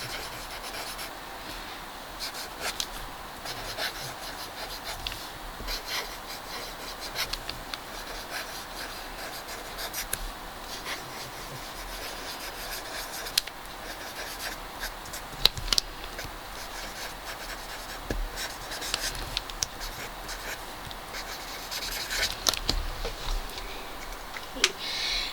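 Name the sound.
handwriting a thank you card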